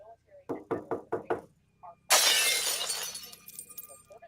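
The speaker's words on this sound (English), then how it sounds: "There was this quick and sudden loud bang on the glass, followed by a window in the kitchen completely" A quick run of sharp knocks on glass is followed by a loud kitchen window shattering, with a burst of breaking glass that trails off into scattered tinkling debris.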